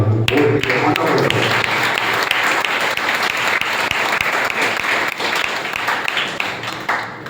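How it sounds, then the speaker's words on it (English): Children applaud together in a school setting, a dense, steady wash of clapping that fills the whole stretch at close range, with a brief voice heard at the very start. "I would like all my children to clap for Yogita and Sia."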